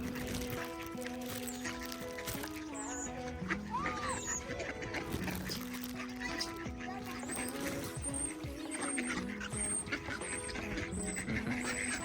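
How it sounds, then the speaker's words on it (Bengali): Ducks being fed bread at a waterside in Saint Petersburg, Russia quack and call in an overlapping chorus over a steady outdoor background, fairly distant and continuous throughout. "সাথে কাছে কিছু পাখি আছে, পাখিরাও বসে আছে, রুটি খাবে"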